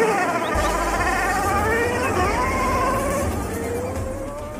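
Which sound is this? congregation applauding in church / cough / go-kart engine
go-kart engine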